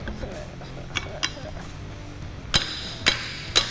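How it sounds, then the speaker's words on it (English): A hammer strikes a steel pry bar while railings are pried loose, giving several sharp metallic clanks with faint knocks and rustling between them. "You hold the hammer at the bottom and it hits a lot harder."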